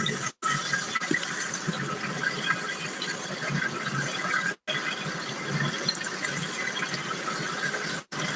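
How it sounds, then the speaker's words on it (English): Water runs steadily from a household tap as an even, continuous rush that is broken only by a few brief cuts, with no voices over it. "the water's still running the whole time"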